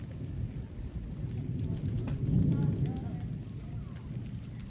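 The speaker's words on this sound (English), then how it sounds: "Oh, it hurts. The raindrops." Rain falls steadily during a summer thunderstorm, a dense near wash of drops with a low rumbling swell midway, while a faint voice is present.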